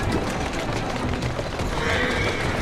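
A horse in Assassin's Creed Syndicate whinnying amid a busy game soundscape, a short neigh rising over steady background noise.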